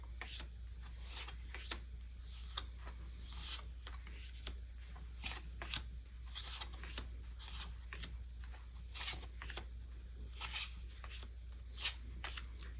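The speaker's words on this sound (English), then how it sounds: "So I'm going through these cards and I'm looking for something that has a sentiment that works" Paper scrapbooking cards flipped and shuffled one after another by hand, giving a close, quiet series of soft rustles and slaps over a low steady hum.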